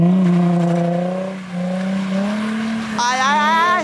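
A car revs hard while spinning donuts, the engine note climbing and wavering in long sustained tones before jumping to a sharp high whine near the end, loud and close.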